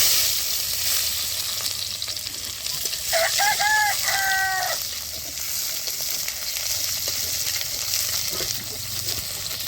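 Chopped onion sizzling in oil after small mourala fish have been fried, a steady close hiss throughout. A rooster crows briefly in the background partway through, and there is no talk.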